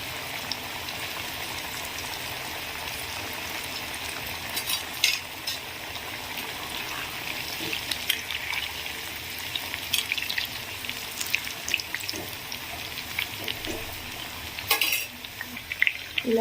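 Sweet potato pieces fry in oil on a high flame with a steady, loud sizzling hiss, with occasional stirring clinks and scrapes against the pan, close up and with no talking.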